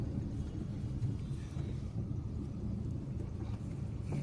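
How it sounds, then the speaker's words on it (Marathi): A Tata vehicle travels along a village road on the wrong side, giving a steady low engine rumble with road noise that persists throughout, with no talk. "हे टाटा आहे कुठे निघाला रॉंग साईडने"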